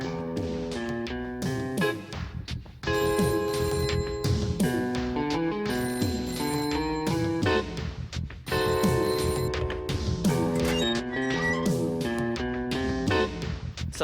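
A telephone rings in repeated electronic bursts of bell tones, loud and close, with short pauses between the ringing phrases and no talk.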